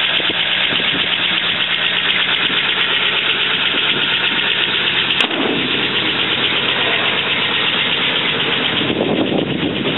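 A 1941 Ford Super Deluxe two-door sedan's engine runs steadily close by, a continuous rumbling idle with a rhythmic mechanical tick, and one sharp click partway through.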